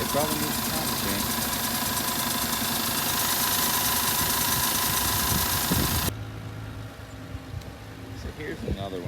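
A car engine idles with a steady low rumble for about six seconds, then drops abruptly to a quieter, fainter hum with light background noise.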